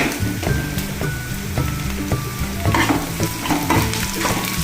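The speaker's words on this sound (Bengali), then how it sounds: "পেঁয়াজটা হালকা একটু ভাজা ভাজা হয়ে যাক।" Onions frying with a little sugar in a pan for mustard pomfret, giving a steady close sizzle with repeated stirring scrapes throughout and no voices.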